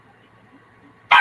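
A single sharp, close bark from a house dog wanting to be let out rings out at the very end, after a near-silent stretch of faint room hum.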